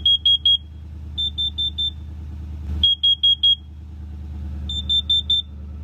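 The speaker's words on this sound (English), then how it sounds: "the Kitty smoke and carbon monoxide alarm, that went off before any of the others" A Kitty combined smoke and carbon monoxide alarm goes off, sounding a loud, shrill series of rapid beeps in groups of three to four, repeating four times with short pauses over a low rumble.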